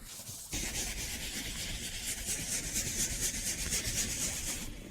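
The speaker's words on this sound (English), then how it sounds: "then a bit of pressure, circular motion, much gentler than any brush, but definitely more effective than any microfiber cloth" A scrub pad rubs in circular motions over a 24-year-old car armrest, making a steady, close, coarse scratching and rubbing that continues unbroken after a brief pause at the start.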